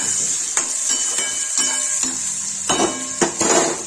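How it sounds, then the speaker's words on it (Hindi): Onions and salt fry in a pan while a spoon stirs them, giving a steady sizzle broken by repeated sharp scrapes and clinks of the spoon against the pan. "तड़क गया, इसमें डालेंगे प्याज। ठीक है, प्याज गाइस नमक डाल जाए, सब्जी चला देंगे।"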